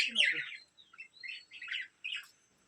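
Pet lovebirds kept at home chirp and squawk in short, bright bursts, close and fairly loud, with a few brief pauses between calls and no other sound.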